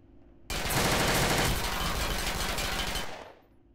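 Sustained automatic gunfire in the Empires mod video game, one loud continuous burst that starts abruptly and runs about two and a half seconds before fading out.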